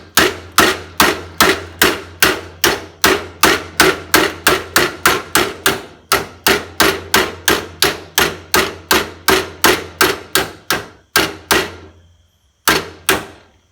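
Rapid, evenly spaced metallic hammer blows strike stainless steel sheet being bent into burner shields, about three per second, loud and close, pausing briefly near the end before two final hits.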